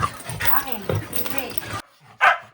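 A dog yips and whines amid overlapping voices, then after a brief pause lets out one short, sharp bark close by.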